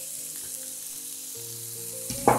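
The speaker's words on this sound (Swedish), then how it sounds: "Så låter jag löken steka ett par minuter innan jag är i köttet." Steady sizzling of chopped onions frying in oil in a pan, a soft continuous hiss with faint steady tones underneath and a brief louder crackle near the end.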